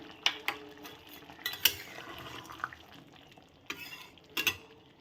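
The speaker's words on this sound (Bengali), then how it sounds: "এটা দিয়েও একটু হালকা মাপে নেড়ে দেবো।" Spices stirred with ghee in a pan for a cauliflower curry, quiet soft sizzling broken by scattered sharp clinks and scrapes of a spoon against metal, no talking.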